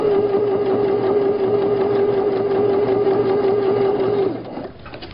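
Sewing machine stitches a band across a basted pocket on a tote bag, running in a steady fast whir with a constant hum for about four seconds before slowing and stopping.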